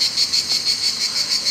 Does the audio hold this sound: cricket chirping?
yes